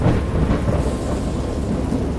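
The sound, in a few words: thunderstorm in the video game Dagon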